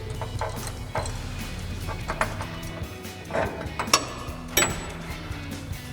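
Ratchet wrench tightening a 15mm nut on a Toyota Tundra dual exhaust, giving a run of close, quick mechanical clicks with a few louder knocks, no talk.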